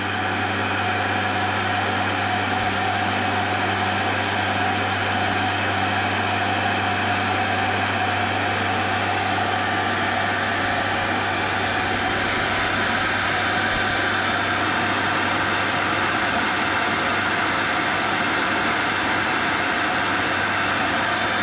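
Direct drive centrifuge spinning while cleaning black diesel oil, a steady continuous mechanical whine and hum with a strong low drone, unchanging and close for the whole stretch.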